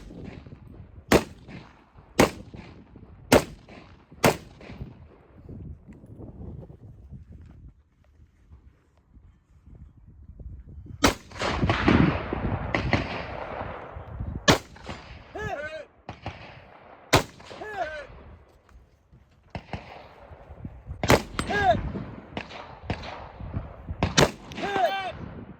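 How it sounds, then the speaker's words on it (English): Gunfire from a .45 pistol and a .308 rifle at a two-gun shooting match: about a dozen sharp, loud shots, first in a quick run of four, then scattered singles and pairs over outdoor bustle and movement. "just blasting paper one hit with 45 and 308"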